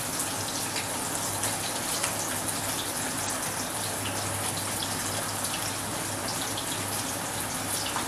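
Shrimp brochettes cook in a pan, giving a steady, dense sizzling and bubbling hiss that stays even and close throughout, with no voices.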